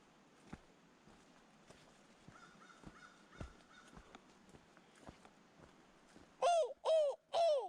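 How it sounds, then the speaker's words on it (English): Three loud, close crow caws come in quick succession at the end, after a quiet stretch of faint scattered footsteps and rustling outdoors. "Come hear the crows."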